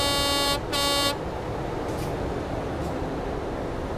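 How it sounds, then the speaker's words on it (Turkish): A truck horn in Euro Truck Simulator 2 multiplayer gives two loud, close blasts, a short one and then a second slightly longer one, followed by steady road and engine rumble with no speech. "önümüzdeki arkadaş koruna çalıyor ama kime çalıyor?"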